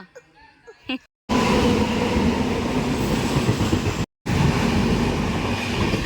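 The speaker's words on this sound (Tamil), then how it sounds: "ட்ரெயின் எங்கம்மா போகுது?" After a few brief spoken sounds, a train roars past close by with a loud, continuous rumble and rattle that briefly cuts out.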